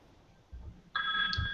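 A telephone rings faintly indoors, its steady electronic warble starting partway through over a low background hum.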